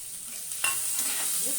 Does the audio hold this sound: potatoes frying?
yes